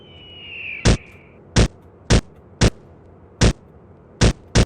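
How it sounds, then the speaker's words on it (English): Mounted machine gun firing in the video game Trespasser: seven sharp, loud shots spaced unevenly, roughly half a second apart, over a low steady hum, with a brief whistling tone early on. "Let's see if I can use this mounted machine gun here."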